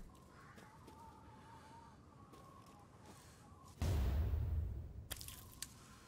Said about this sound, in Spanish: Venga, vamos a matar a la gallina.